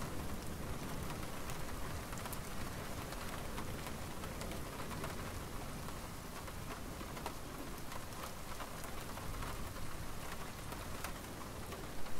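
Steady rain falling in the video game One Night At The Shack, a dense continuous patter of drops on surfaces lasting throughout, with no other sounds standing out.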